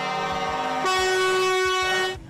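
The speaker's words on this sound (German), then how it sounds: "für einen kräftigen Druck auf die Hupe reicht es allemal" A car horn pressed by children at a charity ride event for seriously ill kids blares in a loud sustained honk that steps up in pitch partway through, then cuts off.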